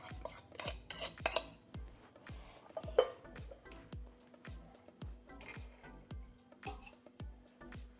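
Semolina, yogurt and water mixed by hand in a bowl, a steady run of spoon knocks and clinks against the dish at a regular stirring rhythm, close and fairly faint.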